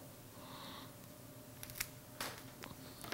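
A few sharp snipping clicks, close by and spaced irregularly, as flower stems are cut, over a quiet background.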